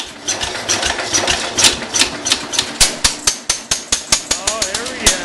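A Cub Cadet 147 lawn tractor engine cold-starts, first coughing and sputtering unevenly, then firing in a series of sharp, loud, regular pops close by as it catches, with excited voices over it.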